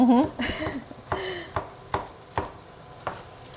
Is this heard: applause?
no